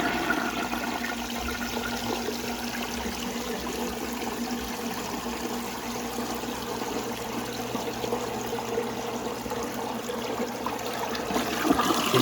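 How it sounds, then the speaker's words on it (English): A 1937 Standard compact toilet, its tank refilled quickly by a pump, flushes with a strong, continuous rush of water that holds steady and loud at close range, swelling slightly toward the end. "so here's another flush."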